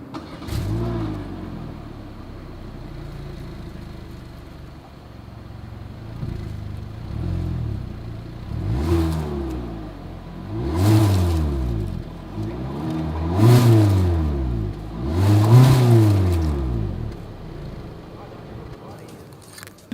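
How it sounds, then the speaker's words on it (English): A 2021 Hyundai Elantra's exhaust revs repeatedly, with several rising and falling throttle blips that grow louder toward the middle and end over a steady idle. "As always, here is that exhaust clip."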